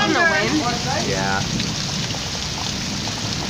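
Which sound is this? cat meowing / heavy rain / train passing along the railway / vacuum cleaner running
heavy rain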